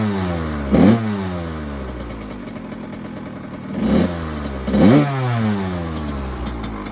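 A 1998 Kawasaki KX80 two-stroke dirt bike engine running close and loud, idling with a rattling buzz between three sharp revving blips, each quickly rising and falling in pitch.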